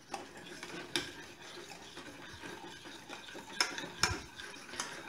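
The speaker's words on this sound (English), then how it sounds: "Consistently stirring until we bring it up to a boil" Béchamel cheese sauce with heavy cream is stirred steadily in a pan, with soft repeated scrapes and a few sharper clinks of the utensil against the pot, fairly quiet and without talking.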